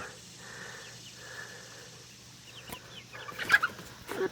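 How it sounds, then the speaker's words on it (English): Chickens cluck and murmur softly at a distance, with a few sharper, louder calls near the end over a quiet background hum. "All the chickens in there hanging out."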